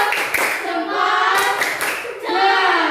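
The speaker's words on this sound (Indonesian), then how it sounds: "Berikan tepuk hebat untuk kelompok Alin, tepuk hebat." A classroom group performs a rhythmic cheer clap for a student team, several bursts of close, loud hand clapping with short pauses between them, with children's voices faintly mixed in.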